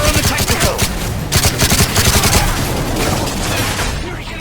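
Dense, rapid suppressing gunfire in Call of Duty Modern Warfare, a continuous volley of automatic shots and bursts dominating throughout, loud and close with overlapping reports and no clear pauses.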